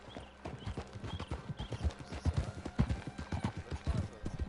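Horse hooves clip-clop at a steady walking rhythm in Red Dead Redemption, close and fairly quiet, with faint voices in the background.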